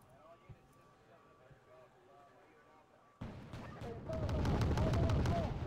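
Bombing and artillery in the real-time strategy game Wargame Red Dragon: quiet battlefield ambience, then a sudden loud burst of explosions that swells into a sustained heavy rumble of bombardment, fairly close.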